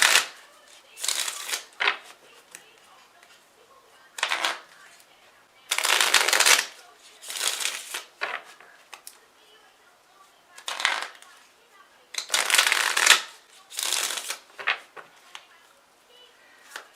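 A deck of oracle cards being shuffled in repeated riffling bursts with short pauses between them, close and crisp, with no talking.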